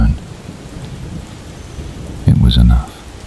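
Steady rain falling on a city at night in Seattle, with a soft hiss of drops and a brief, louder rumble of thunder near the end.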